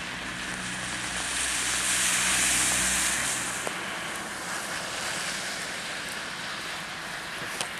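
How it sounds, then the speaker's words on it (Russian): Steady rain falls outdoors at Black Lake in Montenegro, a dense, constant hiss of drops with a gusty wind-like rush that swells early on, then settles into an even wash. "Дождь идет."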